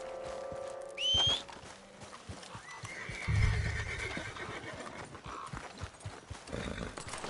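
Horse whinnying and clip-clopping hooves in Red Dead Redemption 2: a bright whinny rings out near the start, followed by a steady patter of hoofbeats and trotting under the game's ambient sound.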